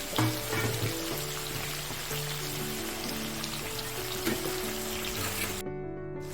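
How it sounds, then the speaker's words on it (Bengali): Hilsa fish pieces fry in oil, giving a dense, even close sizzle throughout with faint background hum, ending abruptly. "এক সাইড হালকা ভাজা হলে উল্টে দিব।"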